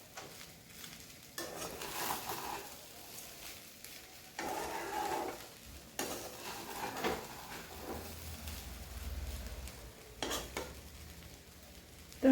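A spoon stirs paneer cubes through pulao in a pan, giving soft scraping and scooping strokes over a low sizzle, with occasional sharper clinks against the metal.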